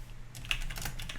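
A computer keyboard clatters with quick, light typing strokes during a short burst of entering text into a browser. The keystrokes are close but soft over a steady low hum, with no voices.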